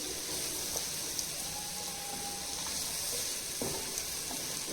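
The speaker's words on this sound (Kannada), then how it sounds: "ಲೈಕ್ ಒಂದು ನಿಮಿಷಕ್ಕೆ ಸಾಟೆ ಮಾಡುವ ಅಷ್ಟೇ." Masala sautéing in a hot pan for veg pulao, a close, continuous sizzle with occasional stirring scrapes and clinks, steady in level, no voices.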